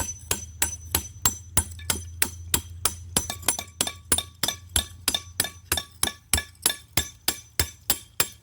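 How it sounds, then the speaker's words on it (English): A hammer strikes a stone chisel against rock in a steady run of sharp, ringing metallic blows, close and clear, roughly two to three hits per second with no talking. "the chisel might work pretty good"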